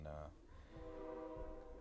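A passing train sounds its horn in brief, sustained tones over a low rumble, with voices faintly mixed in.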